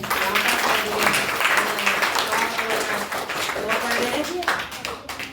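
Steady audience applause fills a school farewell ceremony for seventh-grade pupils, dense and continuous clapping from a crowd throughout, with a voice heard faintly amid it.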